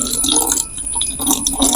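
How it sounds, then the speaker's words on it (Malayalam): Water poured into a homemade beauty soap mixture, a close, continuous liquid splashing and trickling for under two seconds, steady throughout with no voices. "കട്ടിയായിട്ടുണ്ടെങ്കിൽ കുറച്ച് വെള്ളം ഒഴിക്കണം"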